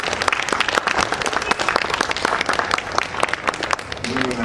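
An audience claps at a book presentation during the Lima International Book Fair, dense steady applause from a crowd with crisp individual claps standing out, continuing to the end.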